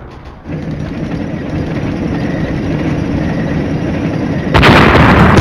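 Gunfire and explosions from a wargame simulation, a dense rumbling barrage of shots at steady loudness that swells into a heavier blast near the end.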